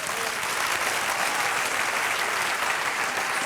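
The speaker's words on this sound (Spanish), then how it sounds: "Dale un aplauso al Señor." A church congregation applauds continuously during a Spanish-language sermon, steady and loud, a dense wash of clapping with no break.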